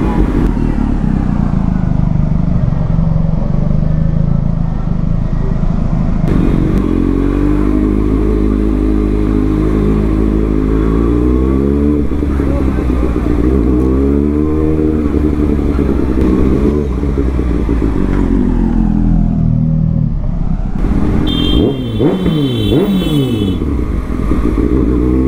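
Motorcycles and cars idle and rev in a traffic jam in Dumka, Jharkhand. Engines rumble close and loud throughout, one rising and falling as it revs, with clattering and a brief high whine near the end.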